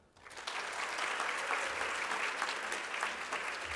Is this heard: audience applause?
yes